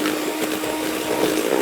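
Softened butter and icing sugar being beaten for a chocolate cake batter, a steady whirring electric-mixer drone running continuously and fairly loud throughout, with no talking.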